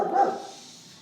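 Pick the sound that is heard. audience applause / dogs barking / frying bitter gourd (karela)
dogs barking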